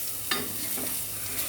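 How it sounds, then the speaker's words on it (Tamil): A ground paste being stirred in a clay pot as it toasts in oil: a soft ongoing sizzle with a couple of brief spoon scrapes against the pot's walls, close and fairly quiet, with no voices. "மண் சட்டினால கொஞ்சம் பொறுமையாக தான் கிண்ட முடியும்."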